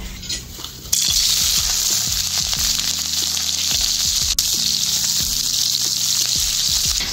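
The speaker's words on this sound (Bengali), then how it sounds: "তেলের মধ্যে দিয়ে একটু ভেজে নেব।" Chopped onions and slit green chilies fry in hot oil in a home kitchen, a loud, steady sizzle running through the whole stretch with occasional stirring clinks and scrapes, and no talking.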